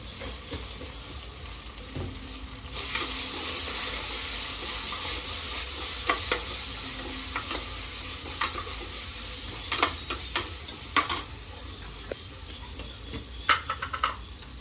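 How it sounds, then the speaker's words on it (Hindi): In a pan for yakhni pulao, ingredients sauté while turmeric goes in: a continuous close sizzle broken by repeated spoon scrapes and clinks against the pan, with no voices. "भूनते भूनते थोड़ी सी हल्दी डालूंगी"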